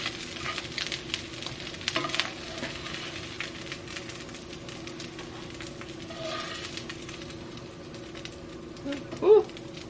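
Chickpea patties fry in a pan with a soft, steady sizzle and light crackle, a brief louder pop near the end.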